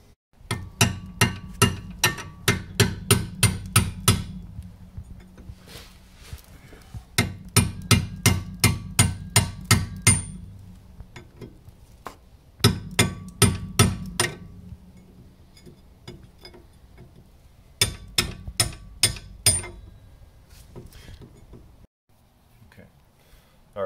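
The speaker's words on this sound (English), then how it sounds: "We've got a chisel here, and we're just going through it." A cold chisel is hammered against the outer metal collar of a Chevy Aveo rear axle bushing on the passenger side, folding it. There are four bursts of rapid, ringing metallic blows, each about eight to ten strikes long, with short pauses between them.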